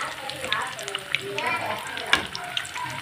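Onion bondas fry in hot oil and are turned over, a lively close crackling sizzle with small clinks and splashes of the utensil as they are flipped, no speech.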